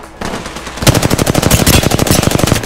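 Automatic gunfire in the Apex Legends video game, a loud, rapid burst of shots that starts abruptly and continues as a dense, rhythmic stream of close blasts.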